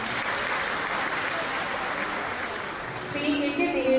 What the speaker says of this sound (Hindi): आपकी तालियां भरपूर बजनी चाहिए।